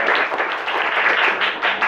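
Classroom applause from students, a short burst of dense, steady clapping lasting under two seconds, fairly close and loud, with no talking over it.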